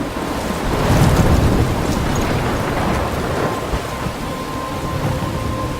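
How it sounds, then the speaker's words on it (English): A thunderstorm with rain in the video game Life Is Strange: a loud, continuous roar of heavy rainfall with a deep rumble of thunder swelling early on, steady throughout and with no voice. "I'm trapped in a storm?"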